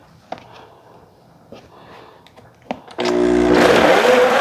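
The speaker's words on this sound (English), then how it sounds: "And all we're going to do now is just blend this up." A blender starts up after a few quiet clicks and knocks, then runs loud and steady, whirring hard as it purées tomato marinara sauce.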